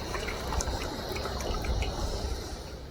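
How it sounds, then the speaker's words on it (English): Boiled water pours into a main pot outdoors, a steady continuous splashing and trickle heard up close for a few seconds, with no voices. "grab our boiled water and add it to our main receptacle"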